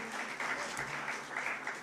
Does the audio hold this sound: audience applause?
yes